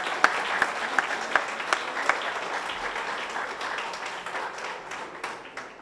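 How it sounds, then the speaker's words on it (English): Audience applause at an art award ceremony greets a winner: a steady, dense wash of clapping with a few sharper claps standing out early, gradually thinning and fading toward the end. "Let's clap for him."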